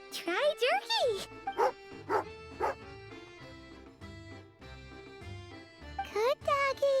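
A dog barks in a video game, a few sharp, evenly spaced woofs ringing out near and loud amid music and short chirpy voice sounds.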